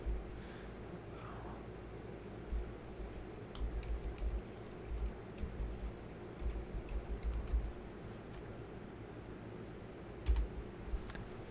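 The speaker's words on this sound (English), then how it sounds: "I type and I don't look at the keyboards." Someone types steadily on a computer keyboard, with soft, close key clicks in bursts and short pauses over a low background hum.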